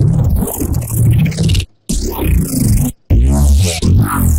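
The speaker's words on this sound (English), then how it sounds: "it's a dirty, heavy, gritty neurofunk bass" Dirty, heavy, gritty neurofunk bass synth patch with snarling, phasing modulation in loud bursts, broken by two brief silent gaps, played alone with no voices.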